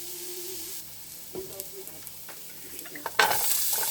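Garlic and onions fry in a pan for a duck and rice dish, a soft sizzle broken by several stirring clacks and scrapes, swelling into a louder burst of sizzling near the end.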